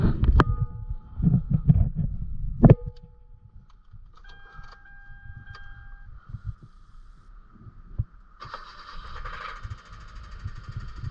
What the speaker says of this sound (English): I'll start it up for you guys so you can hear while we're changing this motor out